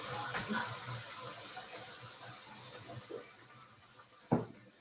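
Hot water runs steadily from a tap in a chemistry setup with a water bath, a continuous broad hiss throughout, softening slightly toward the end, with a short sharp knock near the close.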